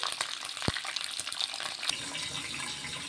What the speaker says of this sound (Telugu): క్యాప్సికమ్ ఫ్రై అవుతున్నాయండి